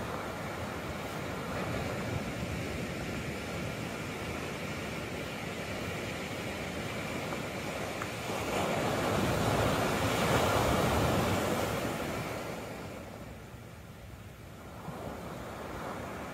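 Ocean surf at Latigo Beach in Malibu, a steady broadband wash of waves with a louder swell building and breaking midway before easing, heard from a parked car with no voices.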